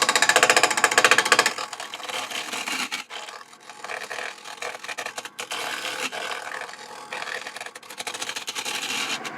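A wood lathe turns a winged bowl as a 3/8 inch bowl gouge cuts: a loud, steady, roaring scrape of tool on spinning wood, briefly dipping and resuming in uneven passes throughout.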